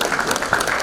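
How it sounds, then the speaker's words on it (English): Audience applause at the curtain raiser for FKCCI's Manthan 2025 event, a short, steady wash of clapping from a crowd in a hall. "Let's give them all a huge round of applause, the core committee and the jury."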